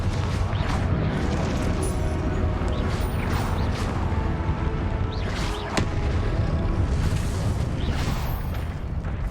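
Confringo spells explode during combat in Hogwarts Legacy, a dense, loud barrage of booms, crashes and whooshes with sharp bursts layered over continuous rumbling battle noise and no gaps.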